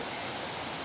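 A mini waterfall on the Oloolua nature trail, a steady broadband rush of falling water heard close and alone for under a second.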